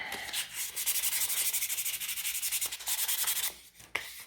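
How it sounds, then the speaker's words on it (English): A wooden wreath piece is sanded by hand: quick, rhythmic back-and-forth rasping strokes, close and fairly loud, running steadily before a pause, then a few last rubs and a light knock, with no talking. "this one needs to be sanded"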